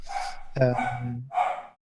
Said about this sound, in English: Somebody's coming to the door. Yep. It's my dog.